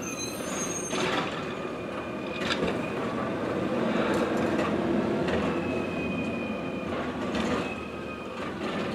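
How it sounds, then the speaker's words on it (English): A residential garbage truck works nearby, its engine rumbling while squeaks, clanks and hydraulic whines from the lifting mechanism sound intermittently, with faint bird chirps at the start. "So, that's the excitement of our garbage truck."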